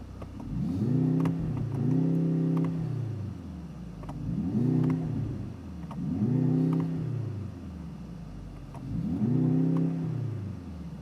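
Mercedes-AMG GLC 63 S E Performance SUV with a four-cylinder engine revs in three repeated blips, each rising and falling in pitch, heard from outside at moderate distance with no talk.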